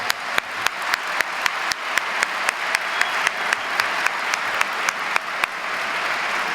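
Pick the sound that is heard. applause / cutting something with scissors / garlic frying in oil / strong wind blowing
applause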